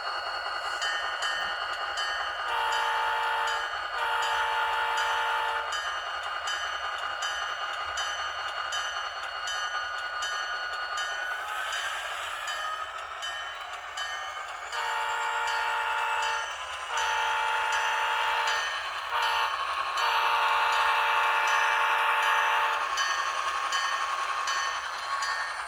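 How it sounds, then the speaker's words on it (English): ESU sound decoders in HO model diesel locomotives, a Scaletrains SD40T-2 and Bowser ALCO C628 and C630, give a steady engine drone with repeated multi-tone horn blasts sounding in short bursts, loud and close, no talk. "Once again, we have ESU sound happening in these locomotives."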